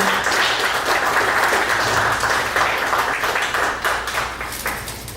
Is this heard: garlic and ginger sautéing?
no